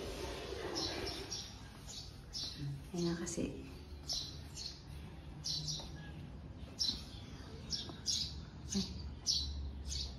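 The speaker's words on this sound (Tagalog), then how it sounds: "Ingay ng ibon." Birds chirp and squawk in short repeated bursts throughout, with a person talking over them.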